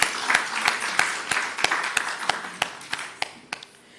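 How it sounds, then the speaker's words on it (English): A large conference audience applauds at the closing of a three-day national health research conference, a steady wash of clapping with sharp individual claps standing out throughout. "I invite us to give a round of applause for what has transpired over the 3 days of the conference."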